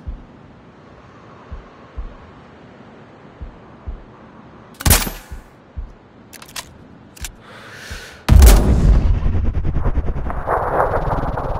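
Sturm Precision Rifle gunshots in Sniper Ghost Warrior Contracts: one loud sharp shot near the middle and a few lighter cracks after, then a louder sustained burst of roaring noise and debris toward the end, with no talk.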